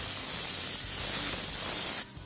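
An airbrush sprays paint through a taped stencil onto a car to lay down flame artwork, giving a steady, close, soft hiss for about two seconds before cutting off abruptly.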